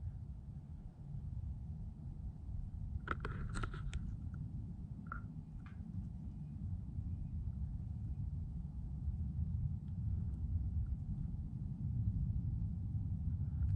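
Deep continuous rumble of a plane flying over a mountain trail in New Hampshire, steady and distant throughout, with a few brief faint ticks and clicks nearby early on.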